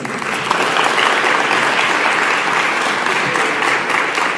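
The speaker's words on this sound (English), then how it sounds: "give a round of applause for Barbara" Steady, full applause from a large conference audience honoring Barbara, a dense wash of clapping that holds evenly for several seconds.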